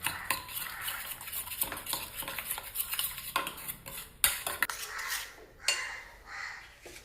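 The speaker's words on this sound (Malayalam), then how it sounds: "ഉപ്പ്, തൈര്, ഇതെല്ലാം കൂടി ഒന്ന് മിക്സ് ചെയ്യാം." Utensils stir and clink against a bowl as a creamy Korean salad is mixed with salt, yogurt and soy sauce, with irregular scraping and tapping sounds up close and no talking.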